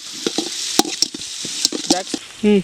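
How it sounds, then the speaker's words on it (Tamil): Onions sizzle in a pan as a spoon scrapes and stirs in quick, uneven strokes; a brief voice sounds at the very end. "அடுத்து வெங்காயம் நல்லா வதக்கட்டேன்"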